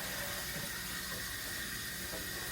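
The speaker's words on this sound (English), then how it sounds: "we're just gonna rinse these off with some cold water" Cold tap water runs steadily over fresh asparagus spears being rinsed in a kitchen sink, a continuous even hiss and splash with no talking.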